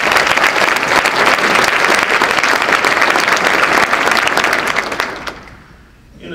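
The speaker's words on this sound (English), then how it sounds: "I think these folks deserve a round of applause" An audience at a press club address gives sustained, dense applause that stays loud and steady for about five seconds before fading out.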